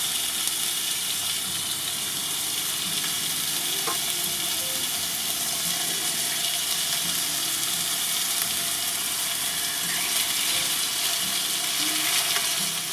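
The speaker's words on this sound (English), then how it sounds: "so we can see it sizzling away in there" Continuous, even sizzling of chicken breast frying in a hot pan on a Lidl mini kamado grill, close up, with occasional faint clicks and no talking.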